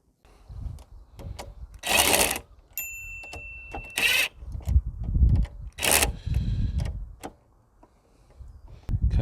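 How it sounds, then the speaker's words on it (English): An impact gun drives a nut during a Revo induction kit install on a Mk2 SEAT Leon Cupra 2.0 TFSI, firing three loud, short rattling bursts up close between stretches of lower rumbling handling noise. "Well, my impact gun."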